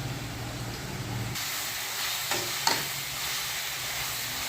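Sliced onions sautéing in a pan for chicken curry, a steady close sizzle and hiss with a few faint clicks of stirring, no talk over it.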